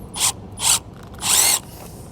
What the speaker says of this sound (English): I'm going to go ahead and shoot that self-tapper right back in that spot to hold our fabric in place